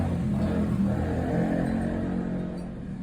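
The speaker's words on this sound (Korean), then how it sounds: "참 시끄럽기도 한 오토바이네요." A loud motorcycle engine drones past nearby, a steady mid-pitched roar that holds and then begins to fade slightly toward the end, with no talk over it.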